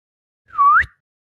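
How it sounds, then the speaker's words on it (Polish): A single loud whistle from a person, one short rising tone lasting about a third of a second, clear and alone against silence. "Chciałbym głośno zagwizdać."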